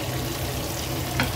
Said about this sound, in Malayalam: ഇന്നലെ അരച്ച് വെച്ച ചിക്കൻ ഫ്രൈ പൊരിക്കുന്നതാണ്